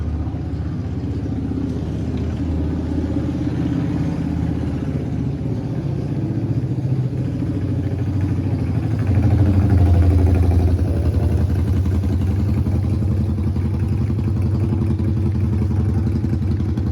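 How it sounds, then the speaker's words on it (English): A motorcycle engine runs at a steady mid-pitched rumble as it rolls through a parking lot, the clattering drone continuous and fairly close, swelling slightly louder midway with no voices. "He's turning here in the motorcycle at the center of the parking lot when I see him."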